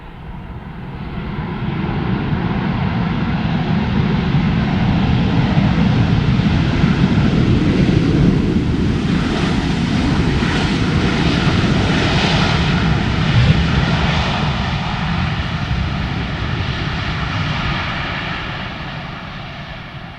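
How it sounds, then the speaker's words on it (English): A Ryanair airliner arriving from Dublin roars past on approach to runway 18R at Amsterdam Schiphol, its loud engine rumble swelling and holding for many seconds before slowly fading, with no talk. "Ryanair coming in from Dublin."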